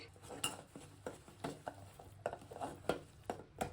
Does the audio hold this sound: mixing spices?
yes